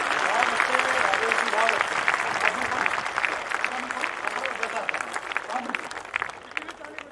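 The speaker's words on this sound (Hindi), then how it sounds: "कविता खत्म होगी, तालियां।" An audience at a Hindi poetry recital applauds at the end of a poem: a sustained wash of crowd clapping that slowly thins, with no words spoken.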